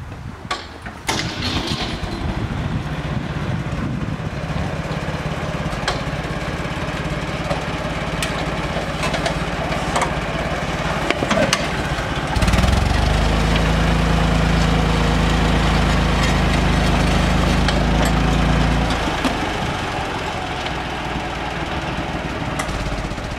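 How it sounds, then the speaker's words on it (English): A tractor pulling a mechanical transplanter runs steadily, with a low engine drone that deepens and grows heavier partway through under load, then eases back, close and continuous. "So we're going to start the tractor up and check on another adjustment or two before we go further."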